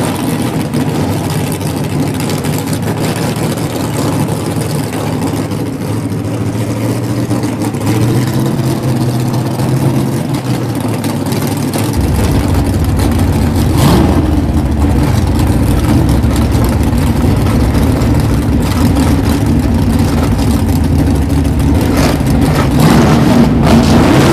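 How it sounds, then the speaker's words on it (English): A Ford gasser drag race car from 1931 with a race engine under the hood runs at a steady, loud, low rumble that deepens and strengthens about halfway through, with no voices. "John Cosby race engine underneath the hood for Gabriel Burrow. Burrow in the 31 Monte Ford"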